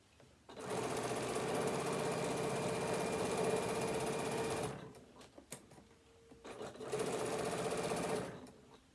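A domestic sewing machine stitching raw fabric edges together for a tablet holder: a steady, fast mechanical whirr for several seconds, a short pause with faint handling clicks, then a second run of stitching.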